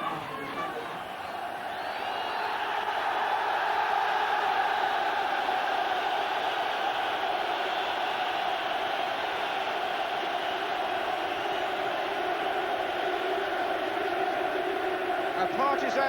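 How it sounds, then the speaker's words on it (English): A Liverpool v Newcastle United football crowd in 1984 roars its reception for Kevin Keegan as he leads the side out, one end partisan and the other applauding, a loud sustained wall of cheering and clapping throughout. "A partisan reception for Keegan from one end of the ground, and a generous round of applause from the other"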